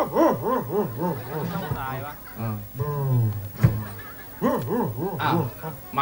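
A voice imitates a scalded dog yelping, a run of rapid rising-and-falling howls repeated in bursts, loud and close, in a Thai comedy routine with audience sounds.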